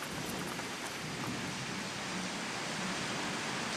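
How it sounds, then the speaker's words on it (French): Steady rain falls during the rainy season in Toraja country, Indonesia, a dense, even wash of noise that holds constant throughout without any voices. "Et il pleut tout le temps, surtout en ce moment avec la saison des pluies."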